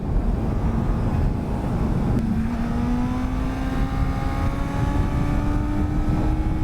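Motorcycle engine on Bridgestone Battlax S23 tires under way, a steady loud drone with rising harmonic tones as it accelerates through higher gear, wind rush throughout.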